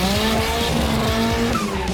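A Toyota Starlet hatchback engine revs hard and climbs in pitch as it pulls away from a start, with tires briefly squealing, loud and close throughout.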